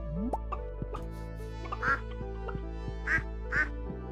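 Ducks quack in the farming game Stardew Valley. Several short, bright quacks repeat over steady background music, with a few soft plops in between.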